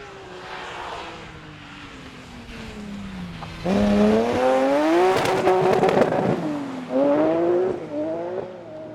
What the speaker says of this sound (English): that very distinctive sound is Chris Rowland's BMW M3